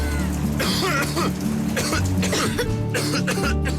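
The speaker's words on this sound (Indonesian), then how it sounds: "Namun, batuk bisa menyerang kapan saja." Several harsh coughs burst out one after another, close and loud, over a busy background of music and effects in an Indonesian TV commercial for a herbal cough remedy.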